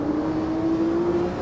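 A Lamborghini Aventador SV engine in the racing game Assetto Corsa holds a steady, droning tone at a constant pitch for a brief moment.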